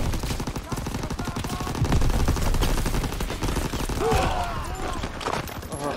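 Call of Duty WW2 gameplay brings rapid machine gun bursts and repeated gunshots in a dense, continuous barrage, with shouted voices mixed into the battle.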